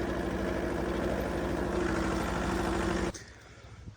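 A tractor running on its own at a set speed while spraying on the first spray of the season gives off a loud, steady engine drone with a low throb, which drops away abruptly near the end.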